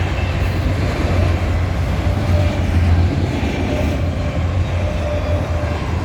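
A Canadian Pacific freight train with car carriers and two distributed power units rolls past on the main line at Maple Creek, Saskatchewan, a steady loud rumble with faint wheel clatter throughout.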